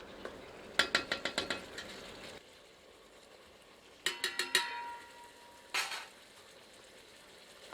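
Spoon scraping and clattering against a pot while saag gosht cooks with ground spices, in three bursts of rapid rhythmic stirring knocks separated by quieter pauses, close and fairly loud.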